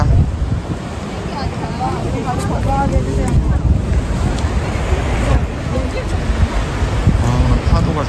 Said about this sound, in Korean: 와 파도가 장난 아니야.